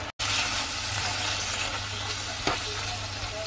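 Pancetta sizzles in a hot pan, a steady close crackle and hiss, with one short stirring scrape and no talking.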